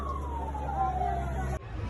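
A fire engine siren, one of three trucks sent to a house fire, holds a steady, slowly falling wail at moderate distance over traffic rumble before cutting off abruptly.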